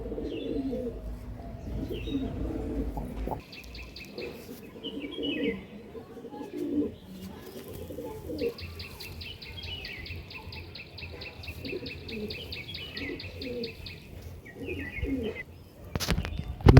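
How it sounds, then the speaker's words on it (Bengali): Pigeons coo softly in low murmurs while sharp, high insect-like chirps buzz on and off above them, at a pigeon sale in Hooghly. "নেক্সট পায়রা দেখুন, এটা একটা জিরিয়া কালডুম মাদি, একদম লং সাইজের পায়রা"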